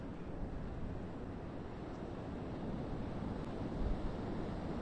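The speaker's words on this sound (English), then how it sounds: "when the waves break, the white water gets curled back to the south" Atlantic Ocean surf breaking at Fire Island National Seashore in January, a continuous broad roar of white water with wind buffeting the microphone, steady and loud with no voices.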